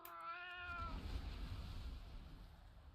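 A short cartoonish cat meow plays as a video game add-on alert sound, a clear tonal cry lasting under a second over a steady low background hum that continues afterward.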